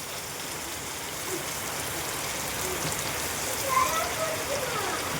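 Steady hiss of rain falling outside, with thunder outside, even and continuous at moderate volume, with a faint voice barely audible underneath.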